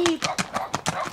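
Horse hooves clip-clopping in a quick, even rhythm of six or seven close, loud beats under excited talk.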